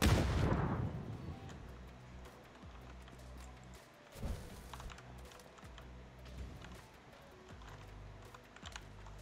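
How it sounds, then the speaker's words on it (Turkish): Grenade bursting in PUBG: a loud, deep blast at the very start that rumbles off, followed by a second muffled boom around midway and scattered distant thuds and clicks under a quiet background. "Adamın kafasında bomba patlattım ölmedi."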